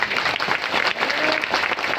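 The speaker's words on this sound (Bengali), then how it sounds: "করতালি দেই।" An audience at a political rally applauding, dense steady clapping from many hands, loud and close, filling the whole short stretch with no talk.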